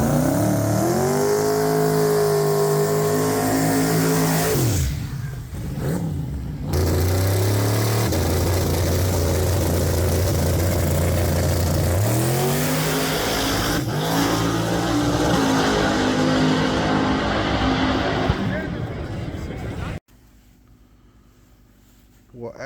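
Drag racing cars on slicks roar and rev hard at close range in a loud, continuous engine blast with shifting pitch, then the sound cuts to a faint background rumble near the end.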